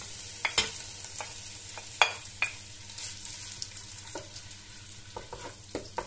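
Chopped onion and garlic sizzle in hot oil in a pan, a steady soft frying hiss broken by scattered scrapes and taps of a utensil stirring, close by and without talking.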